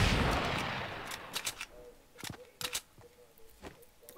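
Gunshots in Fortnite Mobile, a handful of sharp, fairly faint cracks spaced irregularly after a fading rush of noise, with no talk.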